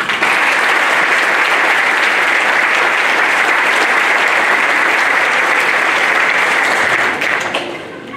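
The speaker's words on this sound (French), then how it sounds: "on peut les applaudir aussi" Loud, dense applause from an audience at a municipal speech, sustained and even for about seven seconds before thinning out and tapering off.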